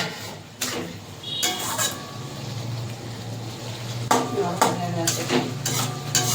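Spice paste for a katla fish and turnip curry gets stirred and fried in a pan, with a spoon scraping in separate bursts over a low, steady sizzle. The scrapes are close and clear, with quieter stretches between them.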